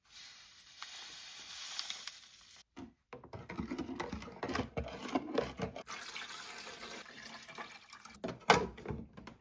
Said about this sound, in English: pour that water into the water tank at the back